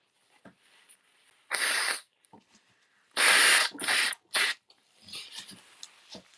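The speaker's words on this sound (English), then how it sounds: "I will need to blow my nose." Someone blows their nose in several loud, breathy honks, separated by quiet sniffs and small rustling noises.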